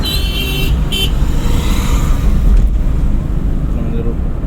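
A car on the road during a driving lesson, its engine running steadily with wind noise while the driver shifts into fourth gear, the low rumble continuous throughout and no clear gear-change sound standing out.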